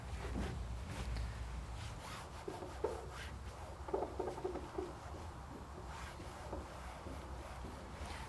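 A finger rubs down the doped covering edges on a Lancaster bomber model, making a close, quiet, continuous rubbing and scuffing with light irregular friction strokes and no talking.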